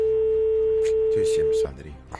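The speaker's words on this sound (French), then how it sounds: "Sonnerie." One long, steady telephone ring tone sounds while a call is placed during a televised SMS prize draw, then cuts off as a voice begins talking.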